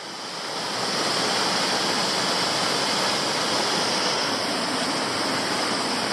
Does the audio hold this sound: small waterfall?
yes